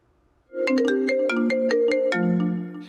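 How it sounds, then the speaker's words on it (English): A phone ringtone plays a bright, clean melodic sequence of quick synthetic notes, loud and alone after a moment of silence, ending on a sustained lower tone. "Ring-a-ling, Elon Musk is calling to tell you about how he's changing Twitter again."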